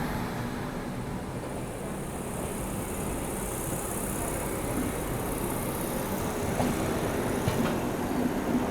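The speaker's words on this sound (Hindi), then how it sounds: "सामने से आ रही है रांची से वाराणसी जाने वाली वंदे भारत एक्सप्रेस, अब ये डिपार्चर ले रही है DDU रेलवे स्टेशन से" Eight-coach Vande Bharat Express on the Ranchi–Varanasi run pulling out of DDU railway station, a steady broadband rumble of moving train throughout with faint clicks, fairly distant and without speech.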